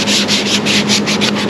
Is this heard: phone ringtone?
no